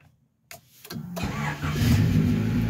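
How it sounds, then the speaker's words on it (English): A Honda CRX with a manual clutch cranks and fires up after a short silence, then settles into a steady, fairly loud mid-pitched engine run, close by and without talk. "So let's see if I have to smash in this clutch to get the car started."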